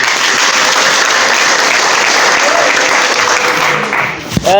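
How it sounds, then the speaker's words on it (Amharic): Sustained audience applause fills a church hall, dense and loud throughout, tapering slightly near the end with a brief voice at the close. "ለጌታ ክብር አጨብጭቡ።"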